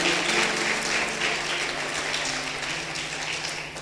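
A church congregation applauds in a steady, sustained wash of clapping that fills the room at moderate level, with faint voices underneath.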